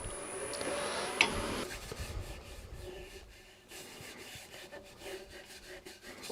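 Woodturning tool cutting a wooden yarn bowl on a lathe: a scraping, rubbing cut is loudest in the opening seconds, then quieter intermittent rasping and ticks follow.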